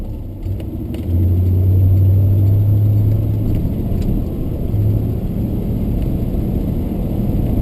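A 1966 Plymouth Fury III engine idling with a deep, steady rumble that steps up as it catches, a faint light ticking running through it, close by and without talk.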